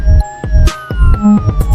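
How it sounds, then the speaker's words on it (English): A loud video game police siren wails and sweeps in pitch during a chase, mixed with repeated thumping crashes and bumps. "I just started to turn on my sirens and go after them"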